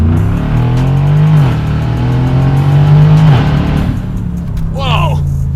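A deep, throaty McLaren 600LT exhaust with a Pure Turbos stage 2 tune, in sport mode, rumbles steadily and loudly, swelling as the engine revs, with a brief excited shout near the end.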